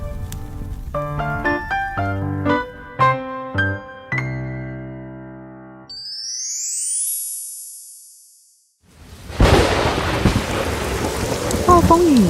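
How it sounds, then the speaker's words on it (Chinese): Storm sound effect in a children's story: after a few musical tones and a rising whoosh, loud steady rain bursts in with rumbling thunder and crackles, filling the final few seconds with dense noise. "暴风雨越来越强烈，闪电越来越亮，雷声越来越震耳。"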